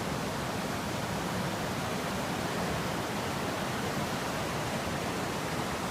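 Rushing whitewater of the Little Susitna River at Hatcher's Pass in Alaska pours past as a loud, steady, unbroken roar that fills the whole stretch.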